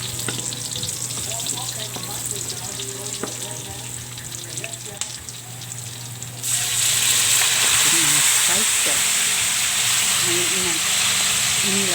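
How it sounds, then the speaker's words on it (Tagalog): Garlic and onion slices browning in a hot pan for pork estofado, a steady loud sizzle and frying hiss that swells sharply partway through, with occasional stirring clatter. "Yan ang ating garlic grass at onion slice. Pa-brown lang natin ng konti guys."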